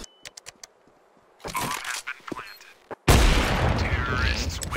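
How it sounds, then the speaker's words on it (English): Counter-Strike 2 gunfire bursts out in a tense firefight, sharp scattered shots early followed by a dense loud barrage in the last seconds, with a player's voice talking in between. "They have me pinned. I'm under fire."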